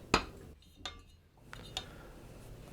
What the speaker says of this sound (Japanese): 火が入れば鍋からボウルに移し替えます。